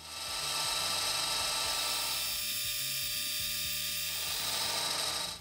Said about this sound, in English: I'll get a little more stock chucked up, faced, and turned down to the overall width of the knurling tool.